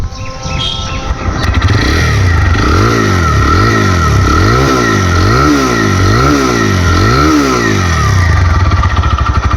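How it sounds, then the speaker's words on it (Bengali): A second-hand TVS Raider 125cc motorcycle engine starts and idles, then revs up and down repeatedly in a rhythmic pattern, loud and close throughout. "এখন গাড়িটা স্টার্ট করে সাউন্ড কন্ডিশন দেখাবো"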